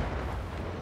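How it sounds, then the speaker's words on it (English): Far Cry 5 game explosions from the sky as a dense, continuous low rumbling roar with booming bursts, steady and fairly loud for under a second, no voices. "Where the hell are those explosions coming from?"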